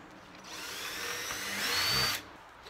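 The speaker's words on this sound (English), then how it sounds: "let's go ahead and get our holes drilled here" A power drill bores holes in a homemade mouse trap, a close whining whir that rises in pitch and strength for about two seconds before cutting off abruptly.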